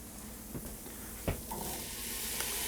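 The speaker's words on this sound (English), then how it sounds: "Next, I'm going to add my diced potatoes." Diced potatoes tumble into a pot of cooked onion, giving a soft thud followed by a gentle, steady sizzle and faint stirring, heard close with no talking.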